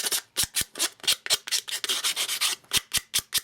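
Paper edges are scraped with a distressing tool in quick repeated strokes, a dry rasping rub coming in rhythmic bursts close up with no talking.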